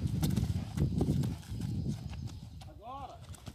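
A young mare with three months of training trots in clip-clop hoofbeats that land in a quick, uneven rhythm close by. Someone talks over the hooves, and a short whinny-like call rises near the end.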